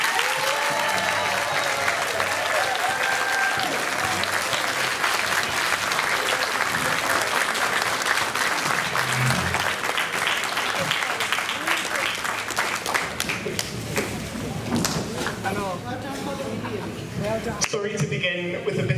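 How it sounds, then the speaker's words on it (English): A church audience at a Christmas carols farewell gives Father Kevin Williams a long, loud round of applause, dense clapping filling the hall for many seconds with voices mixed in near the end. "will you please thank Father Williams with a rousing round of applause"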